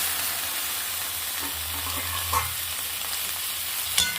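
Bitter gourd fries in oil with onions in a pan, giving a steady, close sizzle with a low bubbling hum and a couple of brief stirring scrapes.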